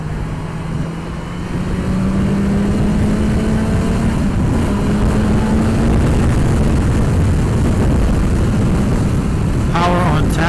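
BMW S 1000 XR motorcycle accelerating on the road: a loud, continuous engine roar rising steadily in pitch, mixed with heavy wind noise from riding, close and sustained throughout.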